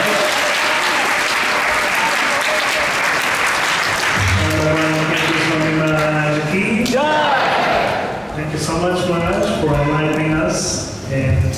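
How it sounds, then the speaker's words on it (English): Audience applause in a temple talk setting, a dense sustained clatter of clapping that carries under a voice talking over it, with a sung or chanted melody rising through the second half. "Let's give a bigger round of applause for"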